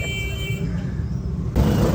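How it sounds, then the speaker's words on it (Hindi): Steady road traffic rumble in Lahore, a continuous low drone of passing cars and vehicles with a louder surge near the end, with faint voices in the background. "बाहर हर वक्त ट्रैफिक का रश है जी"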